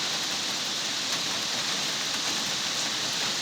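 Steady rain falls over a village, a dense, even hiss of drops on surfaces that holds constant and fairly loud throughout with no voices.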